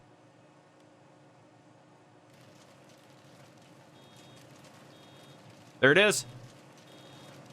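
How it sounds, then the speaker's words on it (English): A wood chipper in the Farming Simulator 19 video game sounds a short, loud electronic alarm burst near the end, rising above a quiet machinery drone while someone talks. "it is definitely making an alarm sound"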